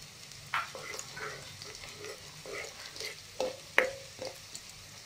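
Curry leaves go into a pan of frying onion, garlic and ginger, giving soft sizzling and crackling with a few sharp pops and some stirring, faint and close.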